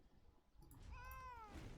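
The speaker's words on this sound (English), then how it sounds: "Cat, you shut up." A cat meows once, a faint drawn-out call that rises and then falls, heard indoors against a quiet background.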